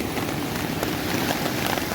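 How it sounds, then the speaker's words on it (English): Tropical storm rain pouring down steadily at a beach campsite at night, a dense continuous patter on nearby surfaces with no voices. "Yeah, but rain is pouring right now in Paria."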